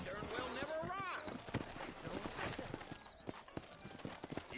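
Hooves clip-clop across a trail in a Western video game as a horse moves off. A rider calls out over the quick uneven steps and a whinny rises near the start.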